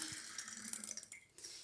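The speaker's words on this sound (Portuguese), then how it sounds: "adicionar 100 ml de água" Warm water, about 100 ml, is poured into a jar as a soft, faint trickling splash that lasts under two seconds. No voice is heard over it.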